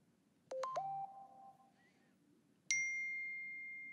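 Three quick bright notification dings from a cell phone, then a single sustained chime about two seconds later, clear and close over a quiet background with no talking.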